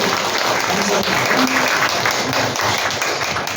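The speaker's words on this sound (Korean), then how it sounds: "박수" A church congregation applauds with steady, dense clapping throughout, loud and continuous with a faint murmur of voices underneath.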